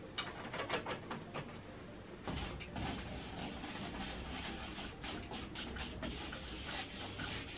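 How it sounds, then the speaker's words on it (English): Brush scrubbing yellow oil paint onto canvas for a Warhol-style portrait, a steady close rasping rub with repeated short strokes that turn denser and continuous after the first couple of seconds. "So I'm scrubbing it in places so it's not entirely flat."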